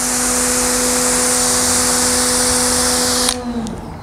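A pressure washer sprays steadily through a 25 degree nozzle tip, a loud, close, hissing roar with a constant motor hum that cuts off abruptly near the end.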